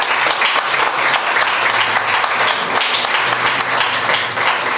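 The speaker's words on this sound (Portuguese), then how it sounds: "As palmas louvam o Senhor." A church congregation claps in praise during a family worship service, a loud, dense and steady wash of many hands that holds throughout without talk.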